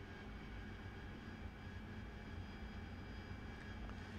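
In the DCS World flight simulator, an AV-8B Harrier's jet engine hums as a low, steady drone at low volume, with no other sound over it.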